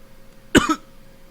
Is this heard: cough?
yes